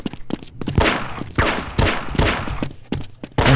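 Rapid gunfire crackles in the video game Half-Life 2, several loud, close bursts in quick succession with brief gaps between volleys.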